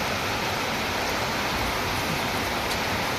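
Heavy rain pours down as a dense, steady hiss, loud and unbroken throughout with no other sounds standing out.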